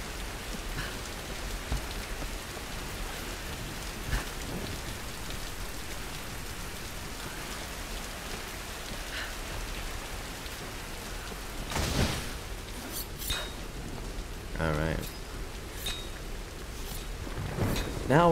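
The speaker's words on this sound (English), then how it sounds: "It's literally raining outside." Steady rain in Tomb Raider patters throughout, with a few louder splashy bursts and drips standing out now and then; no voices.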